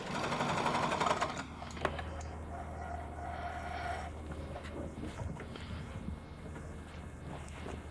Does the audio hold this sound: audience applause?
no